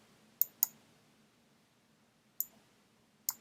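A computer mouse clicks on an OK button in Excel, four crisp, close clicks: a quick pair near the start, then two single clicks after a quiet gap.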